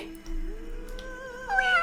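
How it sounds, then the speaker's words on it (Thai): A giant cat in a video game lets out one long, drawn-out meow that rises in pitch toward the end, clear and close with no talking. "แมว แมวยักษ์แล้วคือแมว"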